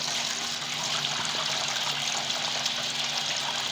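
Chana dal being rinsed in water makes a steady, close rush of running and sloshing water that holds at an even level throughout with no voices.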